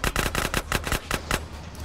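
Rapid automatic gunfire from GTA: San Andreas, about nine sharp, loud shots in a fast irregular burst over two seconds, close and dry with no talk over it.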